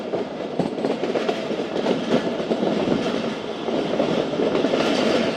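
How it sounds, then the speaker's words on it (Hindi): The 130Dn Thal Express passenger train runs through mountain country, giving a continuous rumble of wheels on rails with faint clickety-clack and a little squeal, heard steadily from on board. "इतनी लंबी गोलाई ट्रेन ने काटी है।"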